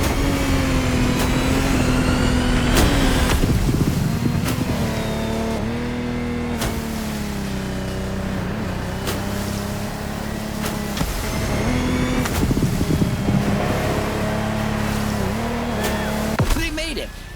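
Lamborghini Technomar speedboat engine in The Crew Motorfest, a steady loud motor drone with shifting pitch as it races across water, rising and falling with throttle, under a commentator's voice.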